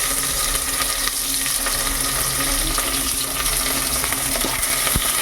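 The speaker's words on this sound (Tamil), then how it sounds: "இப்போ வெங்காயம் நல்லா வதங்கட்டும்." Four chopped onions sauté in a pan for tomato rice alongside fennel seeds, giving a steady, close sizzle and hiss with occasional stirring clicks and no talking.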